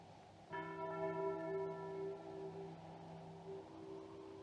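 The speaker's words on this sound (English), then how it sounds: "But stop that bell ringing." A church bell in a Western frontier town rings out with one loud strike and a long, slowly fading harmonic hum, heard alone with no talk.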